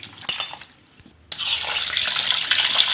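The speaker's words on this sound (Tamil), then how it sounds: "இதை நல்லா அலசி எடுத்துக்கலாங்க." Running tap water rinses raw country chicken pieces coated in turmeric, starting after a brief pause as a steady, close splashing flow with some clatter from the pieces.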